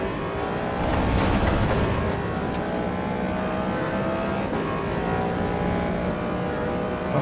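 Toyota Supra engine in the Assetto Corsa EVO racing game, a steady loud engine drone with revving harmonics and passing-car sweeps, continuous throughout with no talk.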